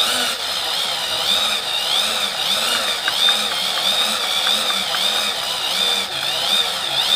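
A pedal-powered generator with gear reduction, turned by hand on both sides for a school science fair project, gives a steady whirring hum with a faint rhythmic pulse from the pedalling and no voices.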